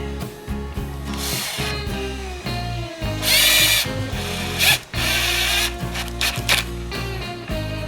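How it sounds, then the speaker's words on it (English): A power drill bores two holes into a wooden dowel for 2-inch screws, its motor whining in several bursts that rise and stop, with short pauses between, loud and close with no voices. "I'm just going to drill these 2 holes"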